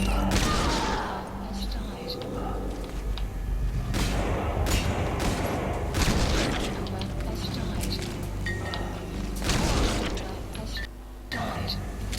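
Gunfire in the Metal Gear Solid V: The Phantom Pain video game, repeated bursts of shots and booming blasts spread across a dense, continuous mix, with voices talking in between.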